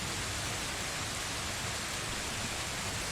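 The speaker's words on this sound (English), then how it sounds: "The rain and the gentle thunder in the background begins to fade" Steady rain pours as a tabletop fantasy game's background ambience, a dense even hiss that fills the clip from start to end with no break; no thunder stands out and no one speaks.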